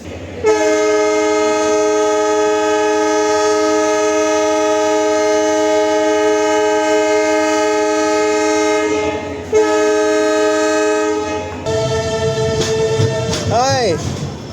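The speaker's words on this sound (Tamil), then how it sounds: "இந்த புதிய பாம்பன் எக்ஸ்பிரஸ் என்று அழைக்கப்படும் தாம்பரம் ராமேஸ்வரம் எக்ஸ்பிரஸ் ரயிலில் வாங்க இனிமையாக ஸ்டார்ட் பண்ணலாம்" Tambaram–Rameswaram Express train sounding a long, loud, sustained horn blast close by, broken by brief pauses and followed by a shorter toot, with people's voices mixed in toward the end.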